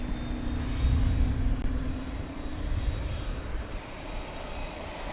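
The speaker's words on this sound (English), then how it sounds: "Landing was flight 6312 and CRJ 701ER from Lubbock, Texas, American Eagle" An American Eagle CRJ-701ER regional jet from Lubbock lands at DFW Airport at night, making a steady, fairly loud broadband engine roar with a faint low hum that carries through the whole stretch without voices.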